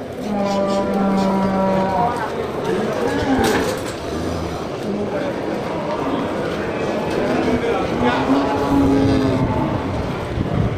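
Simmental and Aceh cattle lowing at a busy livestock market, several drawn-out moos rising over a constant crowd din, with people talking nearby.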